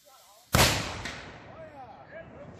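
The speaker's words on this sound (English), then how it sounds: "Fire on number two, Perry." A cannon fires once at a cannon shoot, a loud close boom with a long rolling decay, followed by a fainter second crack; people talk in the background.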